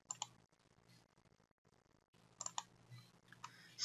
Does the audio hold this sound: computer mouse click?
yes